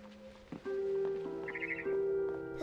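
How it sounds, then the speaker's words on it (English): A barn swallow chirps outside a window in the video game Edith Finch, with a brief cluster of quick, bright chirps over sustained background tones. "Then I heard chirping outside my window."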